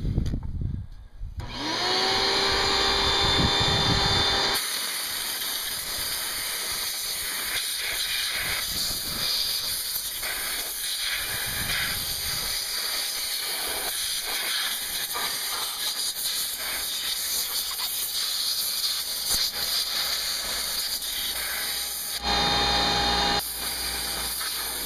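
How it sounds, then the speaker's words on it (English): Compressed air blasts from a long-reach spray nozzle on an air hose, blowing rodent debris and acorns out of an Onan generator; a loud, steady hiss runs for the full length, with a short burst near the start and a brief change toward the end. "I'm going to use an air hose with a spray nozzle that reaches way back in there."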